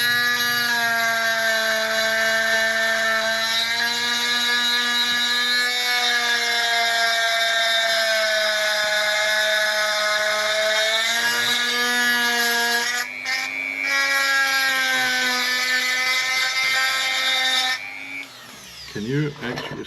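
A high-pitched rotary power tool grinds steadily inside an oily Zundapp engine during porting, close and loud with a whining tone that dips and rises as it bites into the metal, then winds down at the end.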